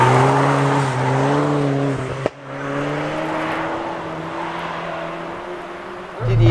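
A Fiat Cinquecento fitted with a 1.4 T-jet engine pulls hard in third gear, a steady loud engine drone rising slightly in pitch, with a brief break before it continues.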